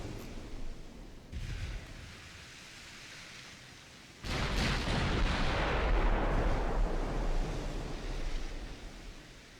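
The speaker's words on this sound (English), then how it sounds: "Again, got a ricochet there." Heavy battleship gunfire and a shell ricochet in a WW2 naval battle game, a long low rumbling roar that surges loudly midway and rolls on like surf, with no voices.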